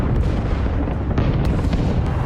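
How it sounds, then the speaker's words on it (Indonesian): German artillery bombardment on a wartime front, a dense continuous roar of heavy rumbling blasts and booms with no quiet gaps, loud and steady throughout. "pasukan artileri Jerman mulai melakukan penyerangan bertubi-tubi"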